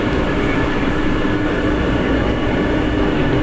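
A Manila MRT train runs at moderate speed, producing a loud, dense, continuous rumble and rattle of the car on the rails, steady and close for the whole stretch.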